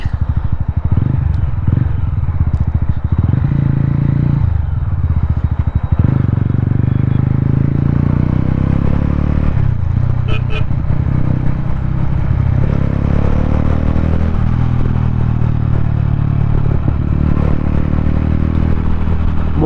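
A Mahindra Mojo 300 motorcycle engine drones steadily and loudly throughout a ride, its low exhaust note shifting as it revs up and down, with wind rush and road clatter on top and no talking.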